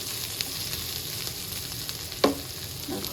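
Ghee and dry chillies sizzle steadily in a pan as dal is tempered, a close continuous frying hiss broken by a sharp crackle and a brief stir near the end.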